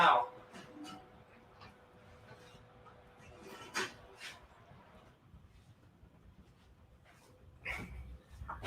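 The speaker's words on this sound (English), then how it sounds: "I've got a dog." A dog gives a few scattered barks and whimpers, one at the start, one midway and one near the end, with quiet rustling and faint voices between.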